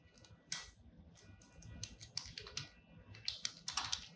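Keys on a computer keyboard are tapped in short irregular bursts of quiet clicks, close and soft, with no other sound.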